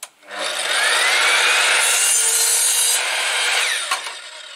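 A power saw, apparently an Evolution mitre saw, cuts through a timber piece for a shed frame, one loud continuous whining buzz of several seconds, close by, that winds down at the end.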